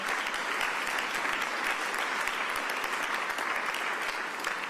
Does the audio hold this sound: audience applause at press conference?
yes